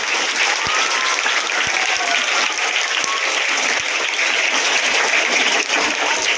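Loud, sustained applause from an audience at a home guard foundation day celebration in a village, steady and dense throughout with no voices standing out.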